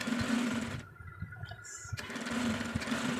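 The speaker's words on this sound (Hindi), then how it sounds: "उसके बाद आप सिलाई स्टार्ट करें" A sewing machine stitches the gathered ruffle skirt onto the top of a baby girl's frock, running steadily, pausing briefly in the middle, then resuming at close range.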